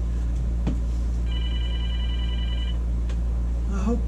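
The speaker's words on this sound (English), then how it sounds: "phone's ringing. Hope my wife answers that in the house." A house telephone rings briefly in the background of a woodturning shop, a single electronic trill burst standing out over a constant low drone of air conditioning, with a few faint knocks around it.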